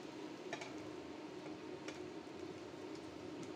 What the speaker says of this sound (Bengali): কলিজা অলমোস্ট ভাজা হয়ে গিয়েছে,